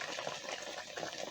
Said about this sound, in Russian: И потихоньку доливаю воды.